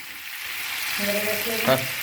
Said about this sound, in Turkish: Salçayı kavurdum ana.